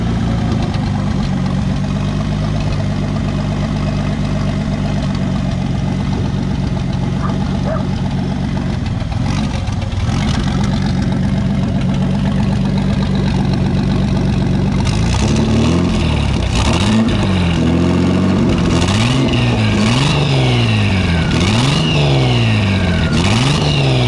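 A turbo V6 Ford Mustang engine starting and settling into a rough steady idle, then revved repeatedly in rising and falling bursts, loud and close with no talking.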